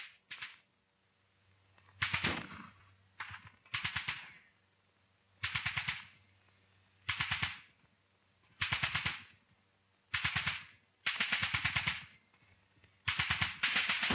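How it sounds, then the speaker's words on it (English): Rifle rapid fire and 2-inch mortar firing smoke bombs during a platoon attack exercise: a dozen sharp, crackling bursts spaced a second or so apart, loud and clear with silence between. "The covering section on Scrubby Hill opens rapid fire. Simultaneously, the 2-inch mortar opens fire with smoke."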